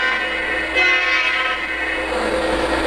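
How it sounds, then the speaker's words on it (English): A Norfolk Southern diesel model locomotive running on an elevated model railway track, a steady continuous rumble and hum with no breaks, fairly loud throughout. "Here comes our diesel Norfolk Southern diesel locomotive."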